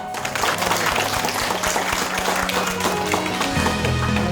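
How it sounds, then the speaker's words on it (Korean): Warm applause from a visiting onion growers' group at a farm gathering in rural Korea, dense clapping held at a loud, even level throughout, with a low hum entering near the end. "뜨거운 박수 한번 보냅시다"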